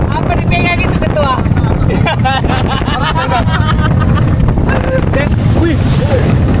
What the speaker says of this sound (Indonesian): Anginnya sangat, ombaknya sangat kencang.